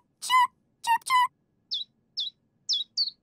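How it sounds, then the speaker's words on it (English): Baby bird chirping in a cartoon, Teen Titans Go: two bursts of tweeting calls up front, then four short, high chirps spaced evenly, clear and close. "Chirp, chirp, chirp, chirp."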